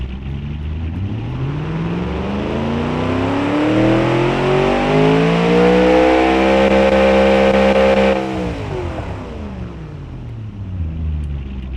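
A throaty 2.0-liter V8 engine in the video game Automation revs up steadily to a loud, high peak, holds, then drops off abruptly and settles back to a lower rumble.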